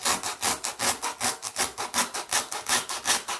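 A knife cutting through foam in rhythmic back-and-forth strokes, about five per second, close and steady, a raspy sawing texture with no voices.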